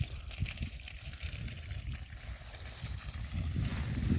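Water flows steadily through a garden in the sun, a constant close rushing and trickling with low sloshing, rising slightly toward the end.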